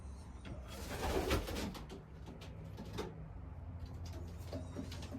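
Pigeons coo softly and repeatedly, with a few scattered clicks and knocks around them; no one speaks.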